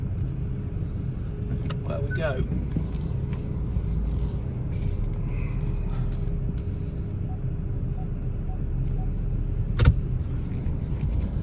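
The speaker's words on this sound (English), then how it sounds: "let's turn this car around" A car is driven and turned around near a roadside Little Chef on the A50 at Castle Donington. A steady engine and road rumble fills the cabin throughout, with people talking over it.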